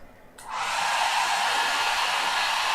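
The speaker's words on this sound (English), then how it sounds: "Let me connect this hair dryer" A hair dryer switches on and runs steadily at full blast, powered from a BLUETTI portable power station, a loud, even whoosh of airflow that holds constant after a brief quieter start.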